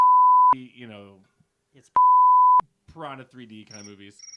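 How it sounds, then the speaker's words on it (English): An electronic kitchen alarm signals that a brisket is done, two steady, piercing single-tone beeps about a second and a half apart, with people chatting in between and after. "that's my alarm that says the brisket is done."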